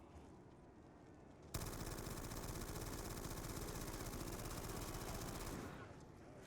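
An MG08 machine gun fires in a Black Ops 2 Zombies game on the Origins map in one sustained burst of about four seconds, a dense, loud rattle over a quieter game background.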